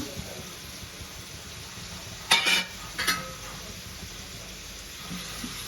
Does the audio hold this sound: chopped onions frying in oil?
yes